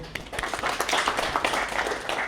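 A crowd claps in dense, steady applause for two crew members at a gathering, close and fairly loud, lasting a couple of seconds.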